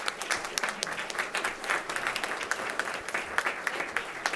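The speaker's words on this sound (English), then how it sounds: "Another round of applause." A steady, fairly soft round of audience applause fills a council candidate forum in Holland, Michigan, with many hands clapping continuously and no voices on top.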